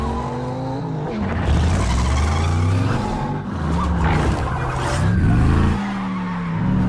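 A car speeds away from police in a film chase scene, with screeching tires and a revving engine, loud and sustained, skidding repeatedly with no talk.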